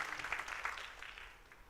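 Congregation in a church clapping for the worship team, a dense patter of many hands that starts moderately loud and gradually thins out, with no talk over it.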